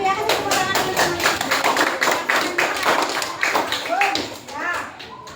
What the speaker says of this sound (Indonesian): Kasih tepuk tangan dulu teman-teman.